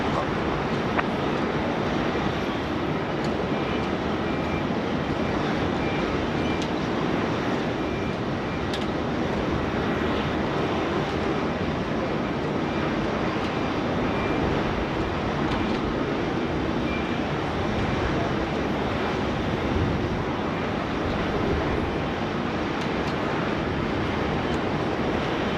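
A jet airliner landing on runway 16 right at Sydney Airport, a continuous broad roar of engine and air noise that holds steady and fills the whole stretch, with faint radio chatter underneath.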